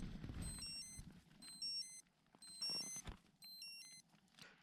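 An electronic alarm clock beeps in repeated bursts of rapid high tones, four rounds with short pauses between, fairly close.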